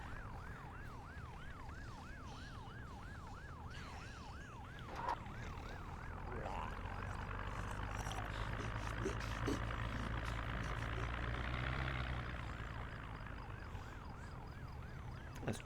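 An ambulance siren wails in a steady rising and falling cycle in the zombie survival game Project Zomboid, later joined by a low engine rumble, with no talk over it.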